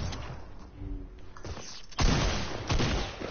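Video game gunfire: a heavy burst of shots crashes in midway with another volley after, loud and close over ambient game noise.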